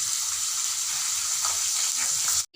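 Crispy corn kernels fry in hot oil with a steady, close hiss and crackle that cuts off abruptly at the end.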